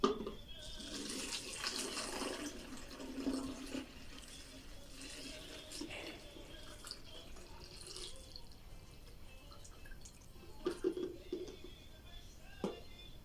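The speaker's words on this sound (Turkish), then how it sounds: "Şimdi ilk olarak ılık suyumuzu bir pet şişenin içine koyuyoruz." Lukewarm water poured into a plastic PET bottle, a faint, uneven trickle and splash at close range with a few small drips, quiet throughout.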